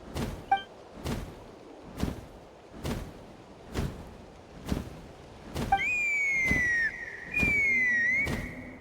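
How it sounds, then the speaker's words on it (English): A shrill, sustained whistle in Genshin Impact with steady pitch and small drops enters partway through, over regular heavy thuds repeating about once per second. "That sounded like a whistle."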